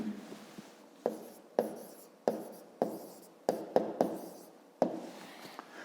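Handwriting during a fifth-grade math exercise: about eight sharp, close taps and scratches land at irregular intervals over a quiet background, with no talking.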